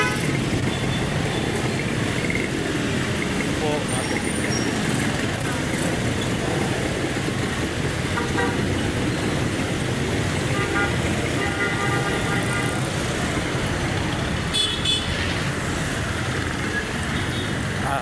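Busy street traffic at the Libertad corner in Pasay City, with a continuous roar of engines, scattered horn toots and passing vehicles, and someone speaking briefly over the din.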